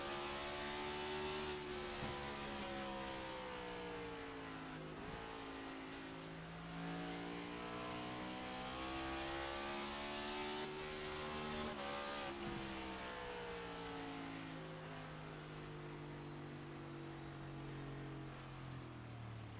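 Onboard engine of the number 35 stock car in a racing video game, a steady, loud drone that climbs and drops through gear changes for the whole stretch, with no voices.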